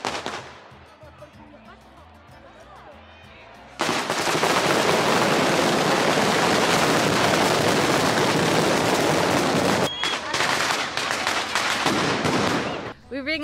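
Massed firecrackers go off all at once at the Fallas festival in Valencia, Spain. After a quieter stretch they erupt into a loud, dense, continuous crackling barrage lasting about six seconds, then stop abruptly, with a few scattered pops and voices afterward.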